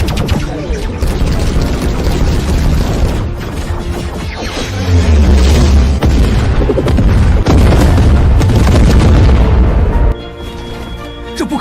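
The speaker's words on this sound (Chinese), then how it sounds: "天元矩阵，前置火力点，全弹射击。" A sci-fi drama battle scene as mecha and fleet weapons fire a full salvo, with heavy booms and crashing explosions rolling one after another, loud and dense, swelling into a deep sustained blast before cutting to quieter rumble.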